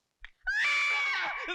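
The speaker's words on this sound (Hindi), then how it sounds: "वो औरत की आवाज नहीं है, तो वो हमारी घंटी की आवाज।" A doorbell that sounds like a woman screaming gives one loud, shrill, wavering wail lasting about a second after a short click, heard alone at close range.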